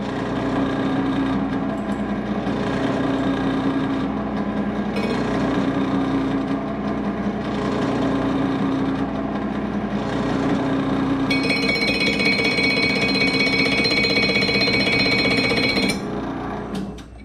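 A metal lathe turns a damaged SXR800 part, giving a loud continuous mechanical drone with a rough cutting texture and a high whine added toward the end.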